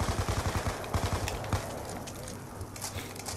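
Rapid bursts of video-game gunfire cut down zombies, a quick volley of sharp shots up front, then scattered single cracks and a busier, denser stretch of game noise toward the end.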